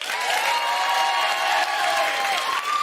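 Comedy audience in Swansea applauding, a dense, sustained wash of clapping that fills the room with some cheering mixed in.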